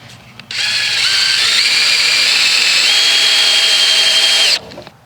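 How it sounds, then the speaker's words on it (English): A power driver clamps a ground wire inside a Victorian-era breaker panel, running in one continuous high-pitched whir for about four seconds, close and loud, its pitch stepping up slightly as it tightens, then cutting off abruptly, with no talking. "I'm going to go ahead and clamp this ground wire so that it looks nice and sharp."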